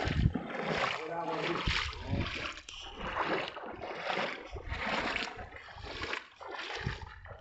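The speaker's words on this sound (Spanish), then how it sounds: "mira cómo entra el agua" Tidal floodwater from a high tide surges into a town, a steady rushing and splashing of water close by, with excited voices talking over it throughout.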